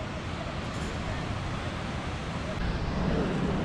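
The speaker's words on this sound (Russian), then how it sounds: "Слышите, как шумит река Урубамба?" Rushing water of the Urubamba river near Machu Picchu, a steady, dense roar that continues unbroken throughout with no gaps.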